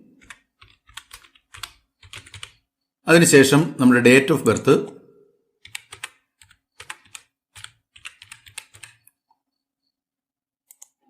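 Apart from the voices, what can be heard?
typing on a computer keyboard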